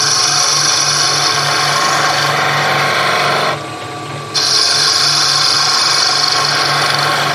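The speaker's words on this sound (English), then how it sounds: "So let's come here and do a little planing cut." A skew chisel makes a planing cut on a spinning piece of wood on a woodturning lathe. The loud, continuous whir and shaving sound stops briefly partway through, then resumes.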